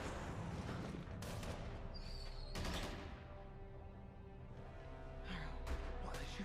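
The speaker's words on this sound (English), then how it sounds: "What are they shooting at?" Gunfire from a Moon Knight TV episode, with several sharp broadband bursts spaced across a dense, loud soundtrack bed of rumble and music.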